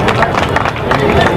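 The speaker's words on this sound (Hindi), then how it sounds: "जोरदार ताली के साथ।" Audience at a stage event bursting into loud applause, a dense, fast clatter of many hands clapping throughout.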